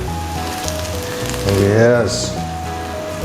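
Shallots sizzling in a pan with minced chicken, a soft frying hiss running under close, loud talk from a cook.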